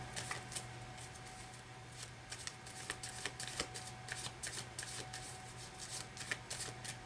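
Tarot cards shuffled for a five-position spread, a quiet run of quick crisp riffling flicks and soft slaps repeating in irregular bursts, close and alone without talk.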